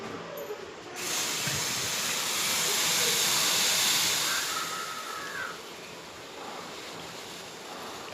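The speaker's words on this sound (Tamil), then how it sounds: "டீ நல்லா கொதிச்சு வருதுங்க." Tea boiling in a pot on a stove: a broad, steady hiss and bubbling roar that rises after a second, holds, then eases slightly, close and alone without talk.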